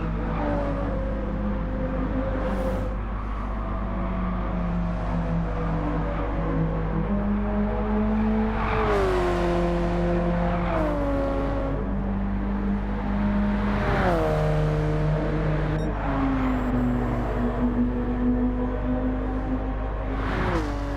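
Race cars lapping Watkins Glen in Gran Turismo 7, a steady engine drone with rising and falling revs through gear changes, loud and continuous throughout.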